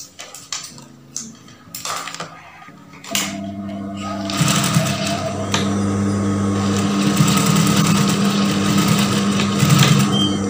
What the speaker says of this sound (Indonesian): bagian samping-sampingnya ini kita jahit